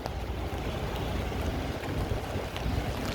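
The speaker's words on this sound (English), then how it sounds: "And it's very windy over here, ladies and gentlemen." Wind gusts across a rainy street in Streeterville, Chicago, near Pearson Street, making a steady, loud rumbling rush of microphone buffeting that fills the whole stretch without any talking.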